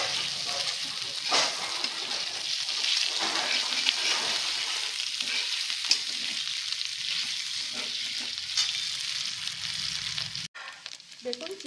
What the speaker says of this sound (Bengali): এগুলোকে একটু লাল লাল করে ভেজে নেব।